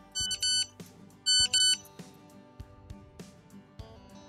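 A phone gives out bright electronic notification beeps in two short bursts of rapid tones, loud and close, with softer background sounds between them and no speech.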